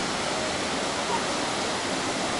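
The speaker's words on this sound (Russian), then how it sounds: "Ну и вот он, водопад." A high waterfall near Sochi roars as a steady, loud rush of falling water, with no break.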